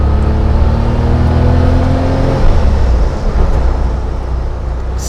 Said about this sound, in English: Notwithstanding the wind, the engine sounds incredible.